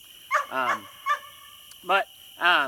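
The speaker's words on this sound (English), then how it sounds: "I apologize for the background barking." A dog barks a few times nearby, with short sharp barks spaced out in bursts and quiet gaps between them during a retrieve training session.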